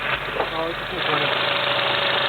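Honda K24 engine running at a car meet, a steady mid-to-low rumble that swells slightly as it continues, with people talking briefly over it near the start.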